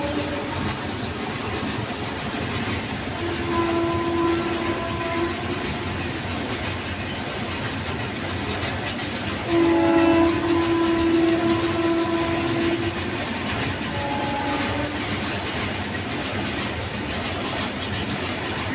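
A train rumbles steadily past at about three in the morning, a continuous loud clatter of wagons, with two long horn blasts, one short and one stronger and longer, sounding over the noise.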